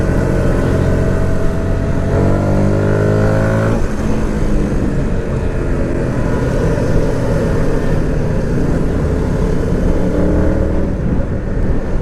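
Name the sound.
wind noise riding a Yamaha MT 125 motorcycle in rain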